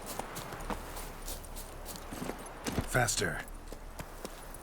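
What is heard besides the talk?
hooves of Geralt's horse Roach in the video game Witcher 3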